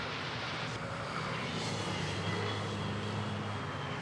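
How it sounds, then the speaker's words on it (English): Singapore Airlines airliner pushing back at Manila Airport, a steady low engine drone and hum at moderate distance, brief and unbroken, with no voices. "Singapore Airlines pushing back"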